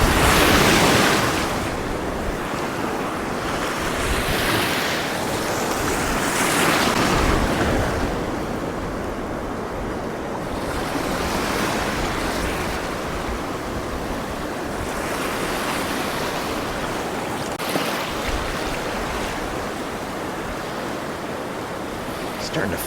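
Pacific surf breaks in broad rolling washes on a shore where snook are fly-fished, with steady wind noise across the microphone throughout.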